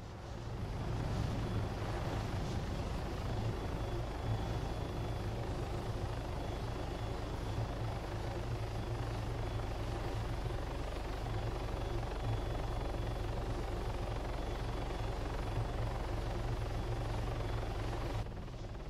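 Helicopter in the ARMA 3 video game, steady rotor and turbine drone holding throughout at close, loud level as the collective is raised, with a constant low thump and a thin high whine above.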